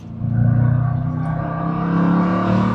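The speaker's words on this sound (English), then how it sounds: "we're gonna rev match and enjoy that a little bit" A 1968 Ford Mustang GT Fastback V8 revs hard while rev-matching, a loud, steady low engine roar with a rising and falling pitch, close and continuous, with no voices over it.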